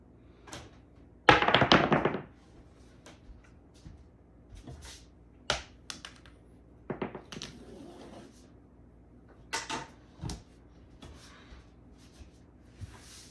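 Dice thrown onto a bouncy craps table clatter and knock against the wall, one loud rattling burst followed by scattered sharp taps and thunks over several seconds, close and clear with little talk.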